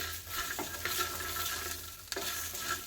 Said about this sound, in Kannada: ಒಂದು ಸ್ಪೂನಷ್ಟು ಕಾಳು ಮೆಣಸಿನ ಹಾಕ್ಕೊಂಡು ಫ್ರೈ ಮಾಡ್ಕೊತಾ ಇದ್ದೀನಿ